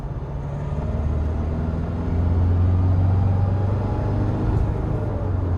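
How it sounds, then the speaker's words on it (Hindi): A vehicle's engine running in 4x4 mode on a normal road, heard from inside as a steady low rumble that swells slightly midway, continuous with no talk. "लेकिन जो इंजन की हल्की सी आवाज़ है वो थोड़ी ज़्यादा होगी"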